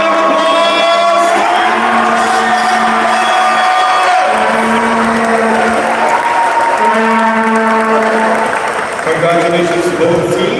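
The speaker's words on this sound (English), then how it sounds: "Everyone, give a round of applause." A crowd in a school gym after a championship game, with sustained applause and cheering under loud voices and shouts, continuous and dense throughout.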